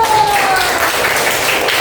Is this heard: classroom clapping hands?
yes